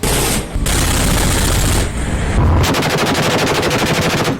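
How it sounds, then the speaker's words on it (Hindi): Dense, loud bursts of anti-aircraft gunfire from a Ukrainian warship at sea, pounding in sustained rapid volleys that run almost without pause to the end. "इसके बाद उस पर लगी एंटी एयरक्राफ्ट गन से ताबड़तोड़ फायरिंग की गई।"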